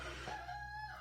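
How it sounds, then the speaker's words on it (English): A chicken or rooster calls from somewhere nearby, a drawn-out crowing cry that rises and holds over a steady low background hum, with no talking. "And the chicken goes again"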